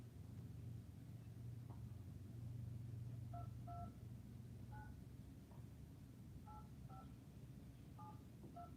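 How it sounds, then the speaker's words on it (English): Phone keypad dialing tones beep in short separate pairs and small clusters over a steady low background rumble, faint and spaced irregularly as a number is punched in, with no speech. "We'll reach out to sorry Mike on his phone."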